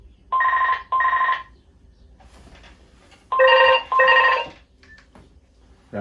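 A telephone rings while a customer is being called: two pairs of loud, clear electronic trills, each pair made of two short bursts, separated by a quiet gap, with no talk.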